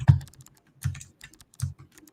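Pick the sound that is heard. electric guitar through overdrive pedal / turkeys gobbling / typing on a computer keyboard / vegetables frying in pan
typing on a computer keyboard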